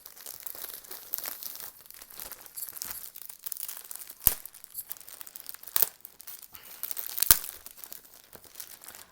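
Close, crinkly rustling of plastic wrapping with a few sharp ripping bursts of tape being pulled, quiet and continuous, no voices.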